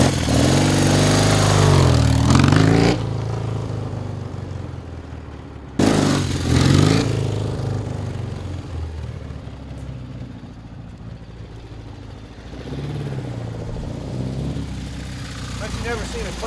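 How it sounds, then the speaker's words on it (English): A 1976 BMW R60/6 Enduro motorcycle engine revving hard during a wheelie, loud throaty bursts that drop away and return, with a voice heard under the engine. "I've never seen a classic BMW do a wheelie like that."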